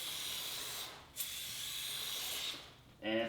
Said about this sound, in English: So yeah, we're just gonna lube the chain